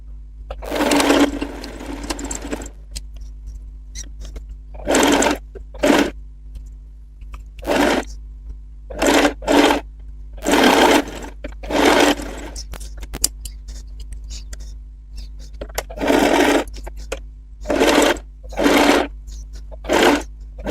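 A sewing machine stitches the front piece of a one-dart crosscut blouse in repeated short bursts, each a second or two long, with brief pauses and fabric handling in between, close and fairly loud over a low hum.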